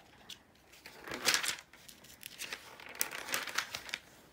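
A magazine page rips out in a few close tearing strokes mixed with paper crinkling, with no talking, loudest in the first burst and again near the end.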